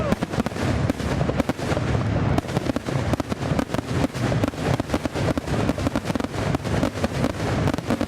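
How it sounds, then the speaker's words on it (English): Fireworks over a lake pop and crackle in dense, rapid bursts, loud and continuous with overlapping booms and sizzles that carry across open water. "residents began gathering on the shores of the lake for the fireworks show"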